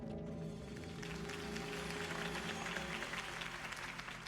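Crowd applause for Harvey Dent's campaign speech in a Batman video game: a dense, sustained wash of clapping at moderate distance, fairly soft.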